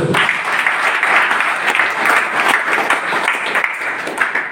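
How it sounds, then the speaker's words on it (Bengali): Sustained applause from an audience at a Vestige business presentation, dense and steady throughout with no speech over it. "আমি সবার থেকে জোরদার হাত তালি দিয়ে নেব"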